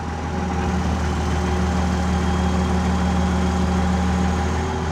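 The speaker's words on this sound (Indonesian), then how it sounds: "Untuk menaikkan RPM kita tahan pada decelerationnya." A Komatsu D85 bulldozer's diesel engine runs with a steady, loud, droning hum, held constant at raised RPM close by throughout.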